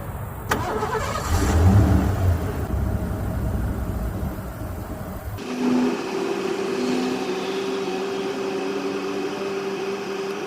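A 1989 Lincoln Mark VII Bill Blass edition runs its air ride suspension, with an engine start and idle followed by a steady mechanical compressor-like hum and whir, close by, with no talk.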